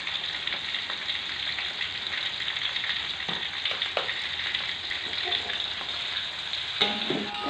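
Fish alu-alu with green chili, soy sauce and Worcestershire sauce sizzles steadily in a pan while being stirred, a constant loud frying hiss with occasional spatula scrapes and clicks.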